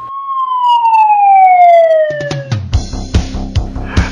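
A Wheeled Coach ambulance siren gives a loud, close wail that slides steadily downward in pitch for about two seconds, then breaks into a rapid, choppy yelp pattern with harsh pulsing bursts.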